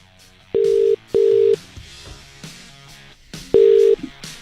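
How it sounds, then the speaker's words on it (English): Telephone call ringing through on the line: three loud, steady electronic tone bursts, two close together and a third after a pause, with faint background noise between them and no speech. "Let's do a call to someone, see how they answer their phone."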